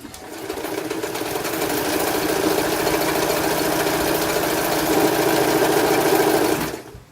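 A serviced metal sewing machine runs a regular stitch through a quilt piece with batting, a steady close mechanical whirr and rapid needle clatter that ramps up, holds evenly, then stops abruptly.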